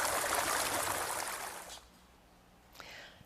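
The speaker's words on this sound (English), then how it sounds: "And you can hear the water." Sand Creek's flowing water makes a steady rushing hiss that fills the first half, then drops away to quiet with a faint brief splash near the end.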